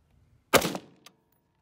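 A single sharp rifle shot of M193 5.56 NATO ammunition fired at an AR-1000 steel plate outdoors, a loud crack with a short decaying tail and a faint second impact tick just after.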